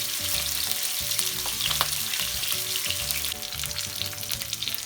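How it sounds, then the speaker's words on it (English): Salmon fillets frying to a crispy brown in a hot pan, a loud, steady, close sizzle with fine crackling throughout and no voices. "You just want to fry it crispy."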